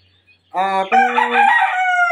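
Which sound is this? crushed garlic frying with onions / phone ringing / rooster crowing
rooster crowing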